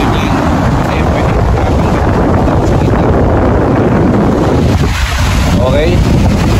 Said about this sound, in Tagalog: Kitang-kita mo rin dito, merong malakas na mga alon.